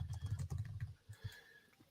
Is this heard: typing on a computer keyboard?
yes